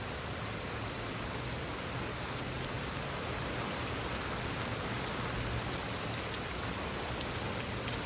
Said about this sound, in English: oh hey, the rain is back